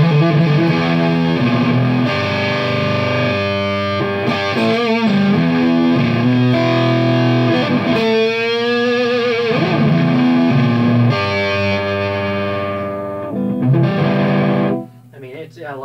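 Electric guitar played through a Marshall Vintage Modern 2466 amp, loud and distorted with rich sustained chords and bends across the whole stretch, fading briefly near the end.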